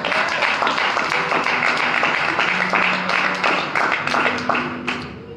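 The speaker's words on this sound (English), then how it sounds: "Come on, clap your hands." Church congregation clapping hands together during a worship service, a dense steady wash of claps running throughout with a voice and musical tones underneath, fading slightly at the end.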